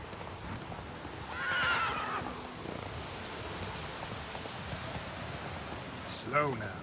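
A horse in The Witcher 3 video game gives a loud, drawn-out neigh early on, then a shorter whinny near the end, over a low bed of hoofbeats and ambient game noise.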